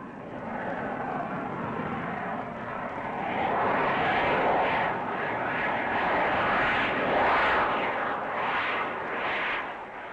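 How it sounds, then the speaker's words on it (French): A roaring jet engine, steady and broad, rises and swells over ten seconds. The source is an Air France Caravelle airliner repeatedly taking off and landing during captain training flights. "la caravelle Nivernais a tenu l'air 36 heures, le jour et quelquefois la nuit, dans un balai de décollage et d'atterrissage"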